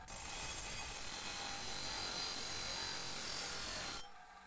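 A lawnmower blade being filed by hand gives a continuous, even scraping rasp for about four seconds, then it stops abruptly.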